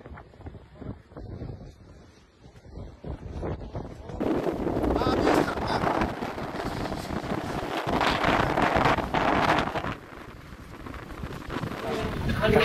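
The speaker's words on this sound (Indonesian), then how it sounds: "kerasnya angin membuat tenda berterbangan sehingga warga panik berlarian menyelamatkan" Strong wind gusts tear through a festival ground of stalls and tents in Mamuju, West Sulawesi, roaring and buffeting the microphone. The gusts swell louder partway through, with voices and clattering mixed in.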